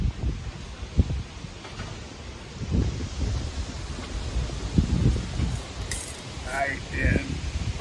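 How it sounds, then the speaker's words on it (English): Gusty wind blows outdoors around a homemade one-gallon still, buffeting the microphone in uneven bursts and rustling, with a few small clinks and a brief high tone near the end. "You gotta wait for the wind to quit blowing."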